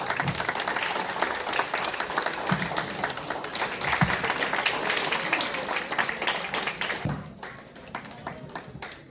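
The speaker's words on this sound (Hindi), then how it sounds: "प्लीज तालियां रुकनी नहीं चाहिए, तालियां" Applause from an audience at a hospital celebration for International Childhood Cancer Day, dense and sustained for most of the stretch before easing off near the end.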